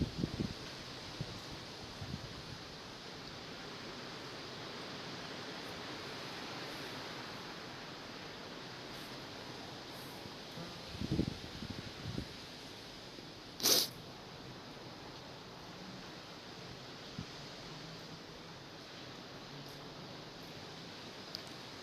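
Night gusts of Cyclone Martina, around 25 m/s, roar as a steady broad wash of wind noise, with a couple of brief louder knocks and rustles partway through and no talking.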